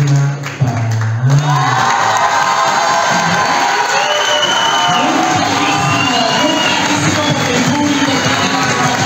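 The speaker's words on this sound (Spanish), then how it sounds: "Aplausos para nuestra queridísima Pamela." Loud crowd cheering, whooping and applause for a contestant at a talent show, a dense sustained roar of excited voices that carries on throughout.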